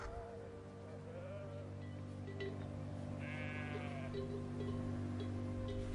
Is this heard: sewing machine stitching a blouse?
no